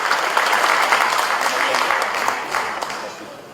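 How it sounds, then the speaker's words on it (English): Audience applause for a speaker at a formal evening event in Jakarta, a dense, steady wash of many hands clapping close by that eases off slightly toward the end. "Please give an applause for Mr. Anies Rashid Baswedan."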